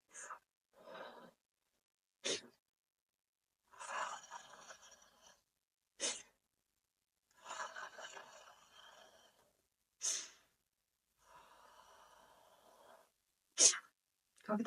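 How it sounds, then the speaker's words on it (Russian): During a guided 'Sneezing Buddha' breathing meditation, sharp sneeze-like nasal bursts alternate with longer, airy breaths and sighs, repeating roughly every two seconds, close and clear with silence between. "Когда мы чихаем, мы перезапускаем работу мозга"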